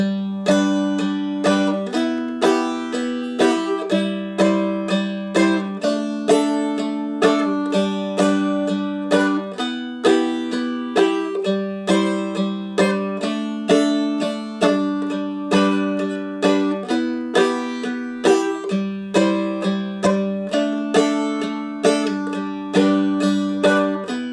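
A bright plucked strumstick strums a repeating chord progression in a steady rhythm, each strum ringing briefly before the next, alone and close.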